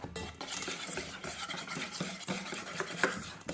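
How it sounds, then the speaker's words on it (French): Flour being stirred little by little into a coconut cake batter, close and continuous scraping and mixing strokes of a utensil in a bowl, moderately quiet, no speech. "on va prendre la farine, mais qu'on va incorporer petit à petit, comme ceci, afin qu'il n'y ait pas de grumeaux"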